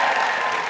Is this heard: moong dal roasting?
no